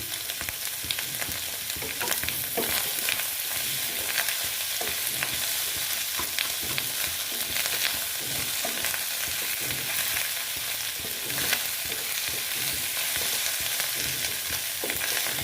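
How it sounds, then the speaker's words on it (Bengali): Fish fat curry with potatoes and turmeric fries in a pan, giving a dense, constant loud sizzle with rapid stirring and scraping throughout, close up and without voices. "আবার আমি সুন্দর করে ভেজে নিচ্ছি"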